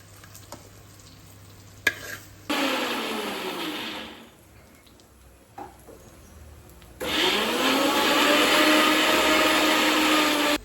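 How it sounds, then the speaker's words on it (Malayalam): Mixer grinder grinding roasted coconut in two bursts, a loud whirring run near the start and a longer one toward the end, with quieter kitchen sounds between. "നേരത്തെ വറുത്ത് വെച്ച് തേങ്ങയില്ലേ, അതൊന്ന് അരച്ചെടുത്തിട്ട് വരാവേ"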